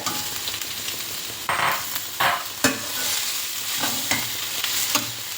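Cooked rice is stirred into a carrot mixture in a pan over low heat, with a steady frying sizzle broken by several loud scraping and tossing strokes of a spatula.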